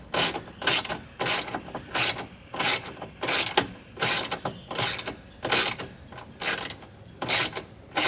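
A 10mm socket on a ratchet wrench turns a bolt on the window regulator of a 2010 Silverado, making about a dozen rapid, evenly spaced bursts of close, crisp ratcheting clicks.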